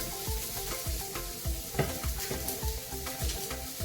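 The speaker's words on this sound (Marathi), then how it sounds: "तवा छान गरम झालेला आहे त्यामध्ये आपण प्रथम थोडंसं तेल घालून घेणार आहोत" Onion frying in oil on a hot tawa (griddle) makes a dense, continuous sizzle, punctuated by repeated stirring and scraping strokes, with no one speaking.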